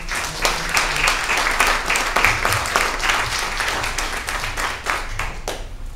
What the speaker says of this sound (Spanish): Nos vamos con un aplauso al doctor.